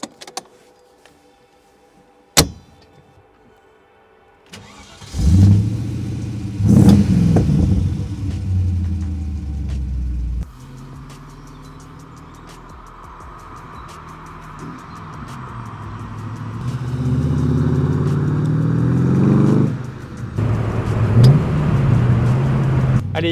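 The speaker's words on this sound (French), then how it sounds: "je vous laisse me suivre pour écouter ce fameux V8" A 2003 Morgan Plus 8 35th Anniversary fires up its V8, with a sharp click and quiet start, then a deep rumbling engine building through loud revs, easing to a steady drone and surging again as the car pulls away.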